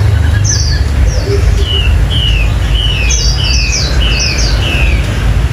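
Close, lively song of a Chinese hwamei from Cao Bằng–Lạng Sơn with a striped yellow breast: clusters of quick, ringing whistled notes repeat in bursts against a constant low rumble.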